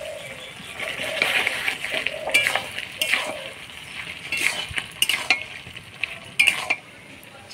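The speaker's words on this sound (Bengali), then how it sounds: "এবার গরম মশলা দিয়ে নাড়াচাড়া করে নামাই" Broiler chicken pieces cook in a pan with garam masala and are stirred, giving a crackling sizzle broken by repeated scraping strokes and clinks of a metal spoon against the pan.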